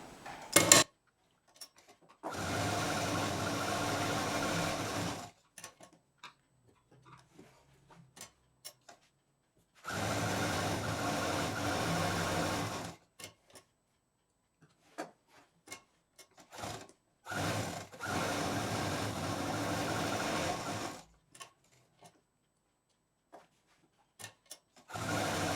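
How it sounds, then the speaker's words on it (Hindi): A sewing machine quilting a baby quilt made from T-shirt fabric runs in three long steady bursts of rapid stitching, several seconds each, separated by quiet pauses with small clicks and handling sounds, heard close. "अब हमको यहाँ से यहाँ इधर मशीन चला के इसको क्विल्ट करना है।"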